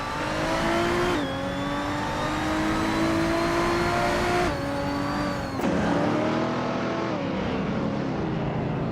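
Race cars including a Lotus and a Corvette roar around the Mont Tremblant North Reverse circuit in a racing game, engines revving and shifting gears with rising and falling pitch, loud and continuous with no talk.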